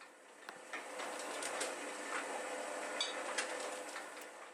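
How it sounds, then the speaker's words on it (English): A C&P letterpress printing press is being inked up, giving a quiet, steady mechanical whir with faint rhythmic clicks and taps, and no voices. "right now you can see that I'm just getting the press inked up"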